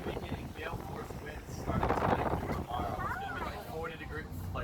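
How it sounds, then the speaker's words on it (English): Strong wind across a lake, roaring and buffeting steadily on a boat, with people talking over the gusty noise. "45-mile-an-hour winds steady across the lake"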